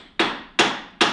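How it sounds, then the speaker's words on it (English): Three sharp, loud hammer blows on a damaged metal sprocket that is being driven back onto the rear end of a built 420cc golf cart. The strikes are evenly spaced, each ringing briefly before fading. "hammering it back on, and we're going to red Loctite it and give it a shot"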